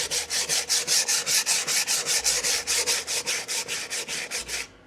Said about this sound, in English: we're just going to use some sandpaper, lightly sand it